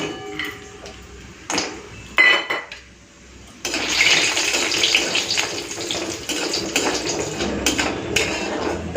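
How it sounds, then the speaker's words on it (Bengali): Bori lentil dumplings go into hot oil in a wok: a few sharp clinks and clatters first, then a sudden, sustained close sizzle with bubbling crackle that continues to the end. "এই বড়িগুলোকে ভেজে নেব।"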